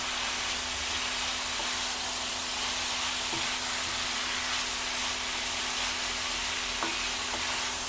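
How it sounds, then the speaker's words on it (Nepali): Vegetables with tomato fry lightly in a pan for Nepali-style chow mein, a continuous close sizzle and hiss with a steady low hum and occasional soft stirring clicks. "अब यो भेजिटेबललाई हल्का फ्राई गरेर चाउमिन हालिन्छ साथीहरू।"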